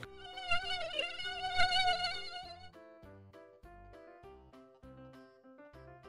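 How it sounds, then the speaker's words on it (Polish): A thin, high mosquito whine buzzes for a few seconds, wavering in pitch, then fades into soft plucked musical notes. "Komar."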